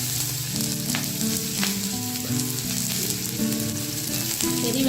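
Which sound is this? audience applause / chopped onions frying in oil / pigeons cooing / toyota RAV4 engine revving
chopped onions frying in oil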